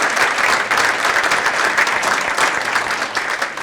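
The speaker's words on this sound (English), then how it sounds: "Let's give all of them a big round of applause." An audience at a women's achievement awards event claps steadily and loudly throughout, dense continuous applause with no break.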